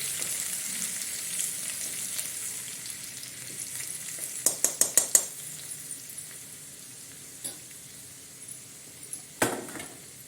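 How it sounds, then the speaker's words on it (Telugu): Mustard seeds, cumin and onion fry in a pan, a continuous close sizzle with a quick run of spatula taps against the pan and a few more clinks later; no talking. "ఆవాలు జీలకర్ర వేసి వేగనివ్వాలి ఉల్లిగడ్డ వేసుకోవాలి"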